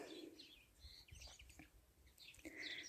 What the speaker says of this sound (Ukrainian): Пташки як щебечуть.